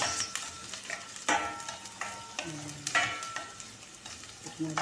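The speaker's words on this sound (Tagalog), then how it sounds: "Lutuin natin yung sibuyas guys para mangamoy talaga siya" Onions sauté in a pan, a quiet sizzle broken by irregular scraping stirs and occasional soft clinks, close by and with no talking.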